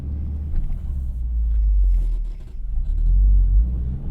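A 2025 Subaru WRX TS with a turbocharged 2.4-liter engine drones steadily while driving, a deep, loud in-cabin rumble that swells and eases slightly without other sounds on top.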